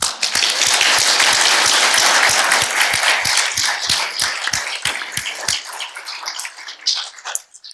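Audience applause at an evening talk-series event greeting two guests: a dense, loud wash of clapping from many hands, with a strong rhythmic clap cluster early on, gradually thinning and fading toward the end.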